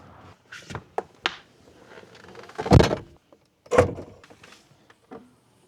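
An electric motor whirs as the rear window glass of a Lexus GX460 lowers, with a few clicks and mechanical clunks before and after.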